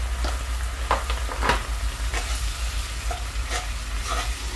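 Turmeric, chilli, cumin and coriander powders fry in a pan for bhindi masala, giving a steady sizzle with repeated scraping stirs, close and loud, under a low background hum, with no speech.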